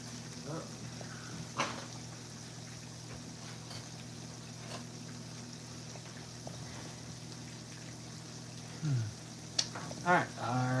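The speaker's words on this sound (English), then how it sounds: "our chicken is there, frying up really well." Chicken for spicy chicken sandwiches fries in hot oil, giving a soft, steady sizzle and crackle throughout, fairly faint, with a few louder pops near the end.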